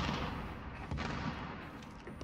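Gunfire in the video game Call of Duty Warzone, a steady dense crackle of shots with a few sharper bursts, moderately loud throughout the short stretch.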